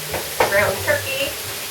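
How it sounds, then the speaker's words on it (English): Ground turkey and diced celery sautéing in a pan, a brief close hiss and sizzle with a couple of stirring scrapes. "And just kind of sauteing all that."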